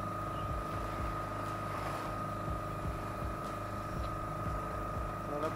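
A sailboat motoring on a flat, windless sea off Corsica on the way toward Porquerolles: a steady, continuous low engine drone with a faint hum above, alone at close range throughout.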